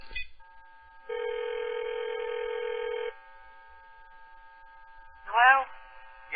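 A telephone ring on a placed call: one long, steady electronic ring tone of about two seconds against quiet line hum, then silence and a brief warbling chirp near the end.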